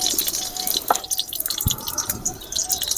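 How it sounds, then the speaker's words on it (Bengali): Oil is poured into a wok for a mustard chutney, making scattered drips and small liquid splashes at close range. "চাটনি করার জন্য কড়াতে তেল দিয়ে দিচ্ছি"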